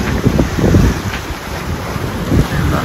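Sailboat under way in the wind near a shallow island anchorage, with strong gusts buffeting the microphone and water rushing along the hull.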